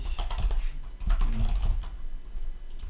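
Fast, irregular clacking of a computer keyboard as code is typed, with close, crisp keystrokes in quick bursts and a short pause midway, and no talking.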